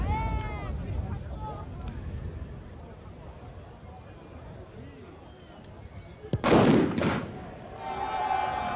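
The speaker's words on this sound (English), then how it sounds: "Firework went off simultaneously" A firework's sharp bang followed by a brief burst of crackling noise over crowd murmur and commentary at a 1991 Carcassonne vs Catalan rugby league match, standing out loudly mid-clip.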